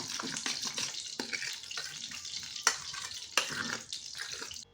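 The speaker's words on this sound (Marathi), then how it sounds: "थोडीशी आपण कोथिंबीर ॲड करूया छान असं मिक्स करून घेऊया" Masoor dal pakoda batter with spices and fresh coriander being mixed in a bowl, a steady wet squelching and scraping that runs throughout with a couple of sharper knocks, close and fairly quiet.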